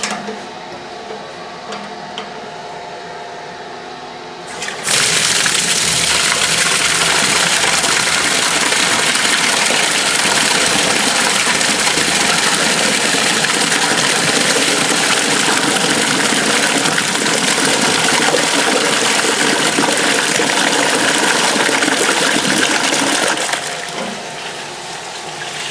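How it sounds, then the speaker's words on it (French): Whey from making a sheep's-milk tomme pours out of a tilted cheese-making vat in a dairy, a loud, steady rush of liquid. It starts abruptly, runs continuously for about twenty seconds, then fades off. "maintenant je vais vider ma cuve de fabrication"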